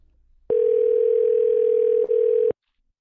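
Ringing tone on a telephone line during an outgoing call: one loud, steady electronic tone that holds for about two seconds and then cuts off into silence, with no voices.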